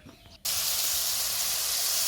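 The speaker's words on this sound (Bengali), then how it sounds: "পাশের বাড়ির এক দাদা গাড়ি ধুচ্ছে সকালবেলা" After a brief quiet moment, a powerful water spray suddenly starts washing a car and continues as a loud, steady, close hiss.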